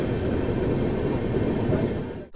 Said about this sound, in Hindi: फिलहाल इस वक्त अपनी train Jalandhar cantt railway station पे आ चुकी है